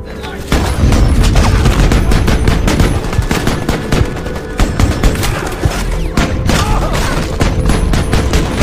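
A battle erupts in sustained gunfire, with rapid overlapping shots and heavy booms from a sniper and other weapons, loud and continuous after a brief quiet start, with faint voices buried beneath the barrage.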